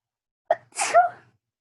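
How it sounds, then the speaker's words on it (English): A single close sneeze, a quick sharp intake followed by a burst of breathy noise, isolated in silence. "excuse me, I have to sneeze."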